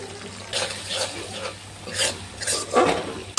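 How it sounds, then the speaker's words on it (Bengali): Pumpkin and greens with turmeric and chilli powder are stirred in a pan with a little water, the spoon scraping in short repeated bursts over a soft sizzle. "এবার ভালো করে মিক্স করে নেব।"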